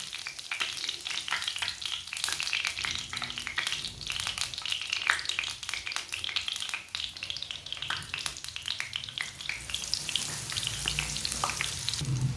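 Mini sandwiches frying in a small amount of oil over a lowered flame: a continuous close sizzle with scattered crackles and pops throughout.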